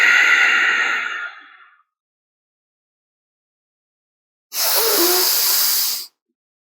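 During a yoga neck stretch, a slow, breathy exhale starts loud and fades away, then after a few seconds of silence a second steady hissing breath follows. Both are close, and there is no talking.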